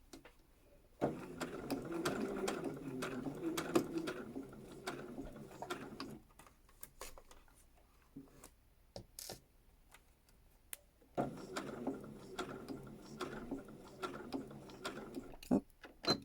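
Domestic sewing machine stitching fabric in two loud whirring bursts, with a quiet pause of small clicks between them as the seam is reversed to lock it.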